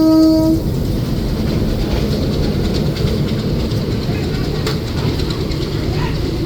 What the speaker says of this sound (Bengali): আর এটা চোদ্দোশো হর্স পাওয়ারের একটা ইঞ্জিন